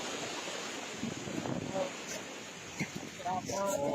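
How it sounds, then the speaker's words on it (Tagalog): Sea surf at a beach in Dingalan, a constant washing roar mixed with wind buffeting the microphone, faint voices in the background. "Yan naman yung dagat."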